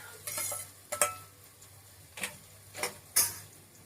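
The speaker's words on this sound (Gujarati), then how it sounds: "ગાજર નાખીશું અને એને બરોબર હલાવી દઈશું" A utensil stirs chopped carrots and onions in a pan while making poha, giving several light scraping clinks at irregular intervals, close and quiet with no voices.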